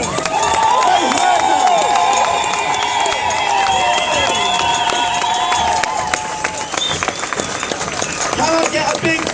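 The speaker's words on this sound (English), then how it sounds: "Can I get a massive round of applause for everyone actually who's been here throughout the whole day" A crowd at an outdoor anti-fracking rally in Preston, Lancashire, claps and cheers loudly in a dense, sustained burst that thins slightly toward the end, with voices shouting among it.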